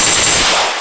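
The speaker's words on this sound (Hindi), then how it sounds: "Use the sights to help you tap left fire button to shoot." A short, loud burst of rapid automatic gunfire from the Battlegrounds Mobile India game, heard close and alone, fading quickly.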